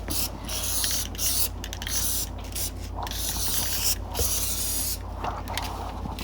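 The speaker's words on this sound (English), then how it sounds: "And you also have to spray the material side as well" Aerosol adhesive hissing onto convertible top material during installation of a new top on a 1984-1993 classic Porsche 911, sprayed in steady bursts with short pauses between passes, close and fairly loud.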